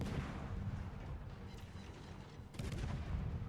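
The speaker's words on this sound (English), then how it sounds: "the Dallas is also shooting at me from about" Naval guns firing in a warship video game, with heavy continuous booming salvos and rumbling blasts that swell again near the end, loud and dense throughout.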